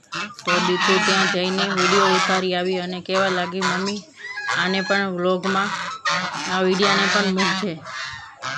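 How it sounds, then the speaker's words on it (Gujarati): Caged birds kept behind a hotel, a loud mix of geese honking and chickens clucking and crowing in repeated bursts, with people talking over the din. "આ બધા પક્ષીઓને હોટલની પાછળ રાખેલા છે પાંજરામાં"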